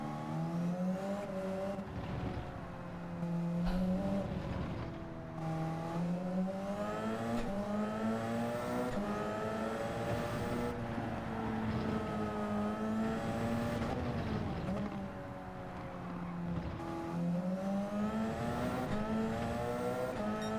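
Race car in Gran Turismo 7 driven with trail braking, a continuous engine howl rising and falling through gear changes and corners, with steady revving and occasional tire squeal, loud and close throughout.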